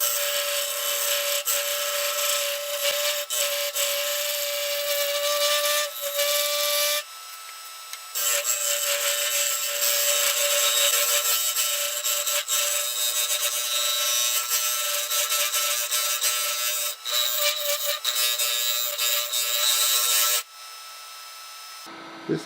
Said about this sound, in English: these two things are causing sort of a harmonics that is causing a squeal when I'm turning